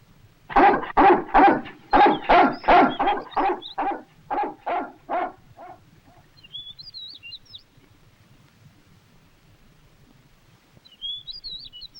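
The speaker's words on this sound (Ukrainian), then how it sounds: "Патраше, гавкай." A dog barks about a dozen times in quick succession, loud and close, then falls quiet while a few faint bird chirps follow.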